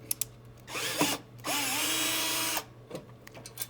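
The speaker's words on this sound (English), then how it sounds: "this is a 12-volt drill." A 12-volt cordless drill drives a screw in two bursts, a short whir followed by a longer steady whine of about a second, with faint clicks before and after.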